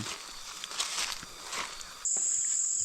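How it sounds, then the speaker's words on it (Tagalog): Crickets chirp in a farm field at dusk around six in the evening, a faint scattered trill that gives way to a loud, steady high-pitched insect buzz close by, with no talking. "Labas na ang kuliglig mga kautol."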